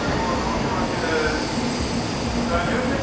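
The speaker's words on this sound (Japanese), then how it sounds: "ここから新幹線乗り換えて京都です" Shinkansen Nozomi 48 bullet train bound for Tokyo, heard as a loud, steady rumble of high-speed rail travel that continues evenly throughout without distinct clicks or pauses.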